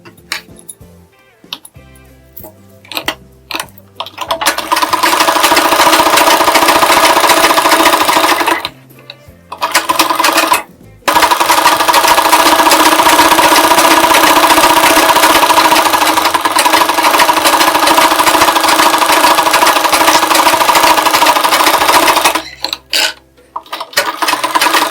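A sewing machine stitches around the edge of a pinned blouse sleeve, running in long steady bursts with short pauses and ticking starts and stops between runs.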